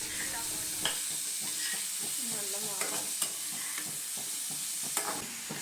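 Onions frying in oil in a home kitchen, with a steady broadband sizzle and frequent scraping, clinking stirs of a utensil against the pan, close and continuous without talk.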